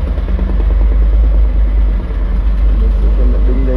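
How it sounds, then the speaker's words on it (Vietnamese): A 2012 Doosan DX55 wheeled excavator's diesel engine runs steadily and loud close by, a continuous low rumble with light clatter and no break through the whole stretch. "Nổ máy."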